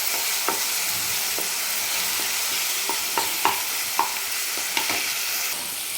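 Garlic, green chili and tomato sauté in a pan, a steady soft sizzle broken by several sharp scraping strokes of a spoon stirring, no talk.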